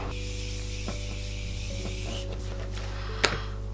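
Makeup setting spray misted onto a face: a soft, breathy hiss that runs for about two seconds over a steady low hum, followed by a few light taps and one sharp click.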